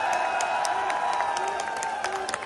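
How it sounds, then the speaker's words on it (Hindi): A crowd at a rally in Rajasthan claps loudly and continuously, a dense, even wash of applause with no pauses. "एक बार जोरदार तालियां"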